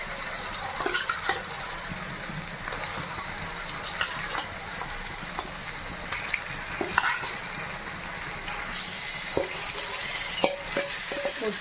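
Chicken pieces frying in hot oil in a pan, a dense, continuous close sizzle with occasional stirring clatters and crackles throughout.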